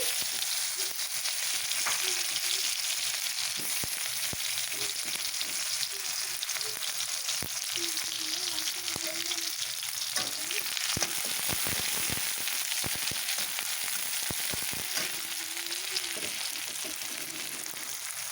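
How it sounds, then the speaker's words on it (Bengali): Chopped onion frying in hot oil in a home kitchen, a continuous bright sizzle and crackle that stays close and steady for the whole stretch, with occasional faint spatters and no talking. "এই দেখো তেলটা আমার অনেকটাই গরম হয়ে গেছে, এখন দিয়ে দেব তার মধ্যে পেঁয়াজ কুচি"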